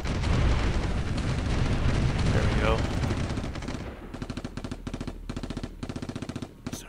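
Tanks attacking artillery units in the war strategy game Supreme Ruler 2020: a dense roar of gunfire and explosions gives way to bursts of rapid machine-gun fire in short repeated volleys, with someone talking briefly over it.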